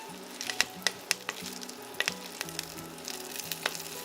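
Torn kale leaves fry in oil over medium-high heat, giving a steady crackling sizzle punctuated by sharp scraping taps as the greens are stirred in the pan.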